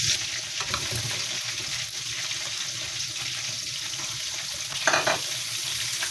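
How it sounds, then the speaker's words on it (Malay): Butter melting and frying with small chicken pieces in a pan, a steady close sizzle with a brief louder crackle near the end, no voices. "Tunggu butter tu mencair ya"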